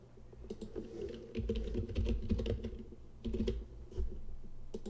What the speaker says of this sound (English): let me type in another location here